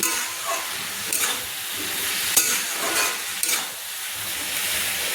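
Shredded cabbage fries on a medium flame with a loud, close sizzle, swelling in hissing bursts each time it is stirred and tossed.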